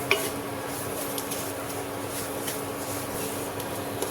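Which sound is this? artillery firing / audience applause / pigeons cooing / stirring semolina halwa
stirring semolina halwa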